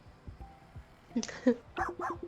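A small dog gives a few high, quick yips and whimpers up close, short bursts near the end following softer scuffling noises, with no talking.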